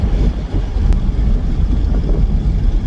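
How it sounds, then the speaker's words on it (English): Wind buffets a 2020 Corvette C8 convertible driven with the top down and both windows up, a loud, steady low roar with a continuous rumble of road and engine underneath and no voices. "top-down sound from the wind. It's not bothersome."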